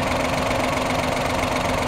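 A 2008 Suzuki Wagon R (MH22S) with a K6A engine idling steadily, a constant low rumble with a faint knocking rhythm, close and loud, no voices.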